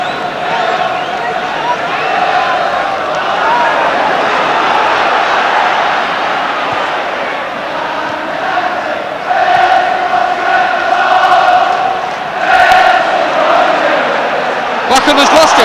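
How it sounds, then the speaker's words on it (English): A large football crowd cheers and roars continuously at a match between Manchester United and Wolves, loud and sustained with swelling surges, under a commentator's voice. "Crowd now willing to cheer at every move"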